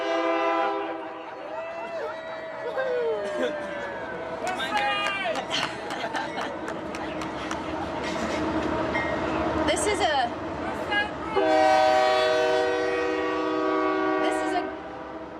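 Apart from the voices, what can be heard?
passing train with train horn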